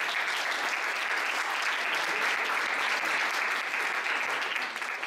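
Steady applause from a large audience at a gala, dense and continuous clapping that holds at an even level throughout.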